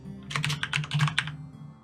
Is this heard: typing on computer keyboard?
yes